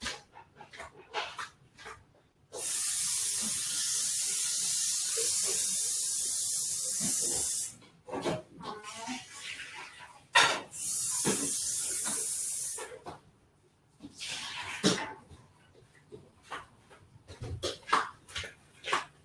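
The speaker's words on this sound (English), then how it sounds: "I'm just going to give this a quick rinse in the kitchen." Water sprays hard from a kitchen tap while a soy milk strainer is rinsed, in two loud, steady bursts of several seconds each. Short clatters and knocks come between the bursts.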